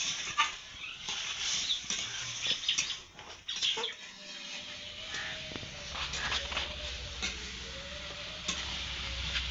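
Mixed winter vegetables sautéed with a little water for a Bengali chhokka, giving a steady close-up sizzle with scraping stirs, a brief lull midway and a faint tonal hum running underneath.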